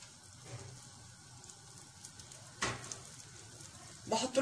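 Rice being stirred and sautéed in oil and ghee in a pot gives a low, steady sizzle, with brief louder scraping bursts from stirring near the end.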